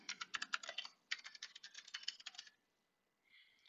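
Rapid keystrokes on a computer keyboard entering a workspace name, two close bursts of clicky typing separated by a short pause, then a faint tonal sound near the end.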